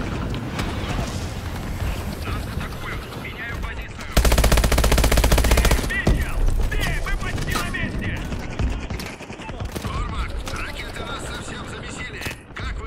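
Sustained automatic gunfire from the video game Call of Duty: Advanced Warfare, with dense rattling bursts and a loud, continuous barrage in the middle, mixed with explosions and game effects throughout.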